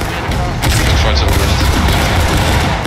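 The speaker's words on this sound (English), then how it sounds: "Firing." A volley of musket fire in a Civil War game, a loud, dense rolling crackle of many shots that thickens after a moment and keeps going without pause.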